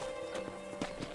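Horse hooves clip-clop at a steady gait while riding in the Red Dead Redemption video game, a faint rhythmic pattern of soft thuds over a constant background tone.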